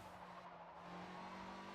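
A car spinning out on dirt in the Forza Horizon racing video game, a continuous tire skid and engine roar that holds steady for under two seconds.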